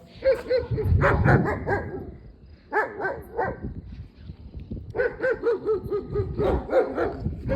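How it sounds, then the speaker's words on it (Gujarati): Three tied German Shepherd dogs bark loudly and close in repeated bursts, with deep overlapping barks separated by short pauses. "અહીંયા કૂતરા બાંધ્યા છે ત્રણ જોઈ લો તમે કેવા જર્મન છે"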